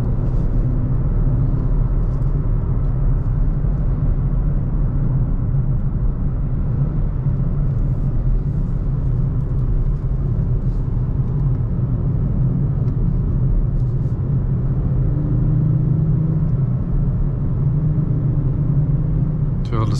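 A 2024 Nissan Z's engine drones steadily from the cabin as the car is driven through corners, a loud low rumble that holds for the whole stretch, with someone talking over it.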